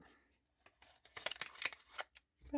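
Scissors trimming a piece from a beginner-friendly craft kit, heard as a few quiet, close snips and rustles spread unevenly through a short, soft moment.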